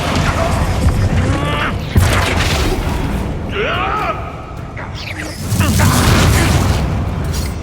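A Bombarda blast spell in Hogwarts Legacy hits with a loud booming crash and scattered debris, followed by a whooshing swell and another heavy rumbling burst, set against busy combat noise and a voice talking.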